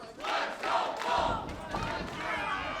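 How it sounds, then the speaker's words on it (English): Wrestling crowd chanting in unison at a live pro wrestling show, a loud, continuous roar of many voices with rhythmic swells, heard from within the arena. "Listen to those "Let's Go Bull James" chants coming from the crowd right now."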